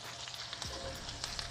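Bacon par-cooking in a pan for jalapeño cornbread gives a faint, steady sizzle with small crackling pops and a brief low knock partway through, with no voices.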